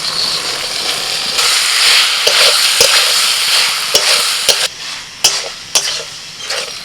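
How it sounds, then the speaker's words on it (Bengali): Fried potatoes and chicken with spices sizzle loudly in a pan while being stirred, with sharp clanks of a spoon against metal growing more frequent toward the end. "চিকেন আর মশলার সাথে আলুটাকে একটু কিছুক্ষণ কষিয়ে নেবো"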